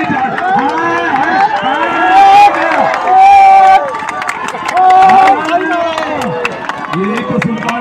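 A crowd at a village wrestling match claps and cheers loudly and steadily, while an announcer's amplified voice talks over the noise throughout.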